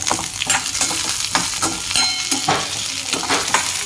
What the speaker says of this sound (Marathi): छान असं परतून घेऊया।